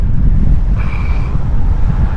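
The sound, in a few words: strong headwind on the Kazakh steppe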